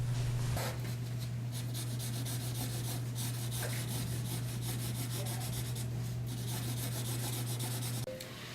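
Someone draws a new moon on paper, making continuous rubbing and scratching strokes over a loud, steady low hum, close and fairly faint, with no talking.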